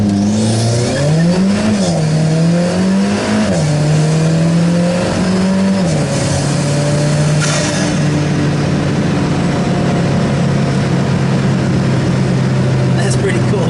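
An Alfa Romeo 4C supercar launches hard from a brake-held start, its engine note climbing through rising revs and gear changes before settling into a steady drone, loud and close, with people talking over it.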